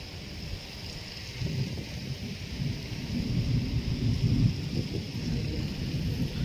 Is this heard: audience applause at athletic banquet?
no